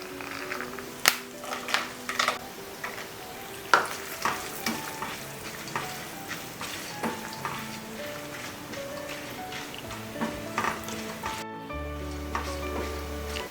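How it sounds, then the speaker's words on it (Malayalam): Cashew nuts and cumin seeds fry in oil in a pan for Ven Pongal, with a steady close sizzle and repeated spoon scrapes and clinks from stirring, no voices over it. "ഇനി നമുക്ക് അണ്ടിപ്പരിപ്പ് കുറച്ച് ചേർത്തു,"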